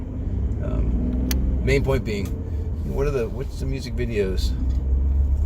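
Steady low engine and road rumble inside a moving truck on the drive to work, continuous throughout, with someone talking over it.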